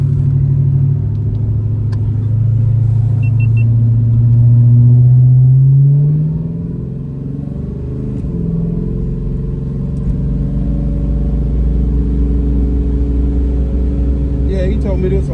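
A car with an LSA supercharger fitted on a 6.0 V8 idles with a deep, loud rumble at a car show, swelling briefly then settling into a steady low throb.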